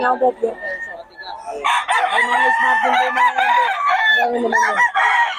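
A Kelso gamecock crows loudly and close by, with a few clucks first and then a long, strained crow held for several seconds, while a person talks faintly.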